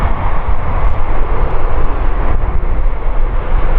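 An Airbus A380 with Rolls-Royce Trent 900 engines flies at the Farnborough Airshow 2016, a loud, broad, continuous jet roar that stays heavy and steady with no pauses and no talk.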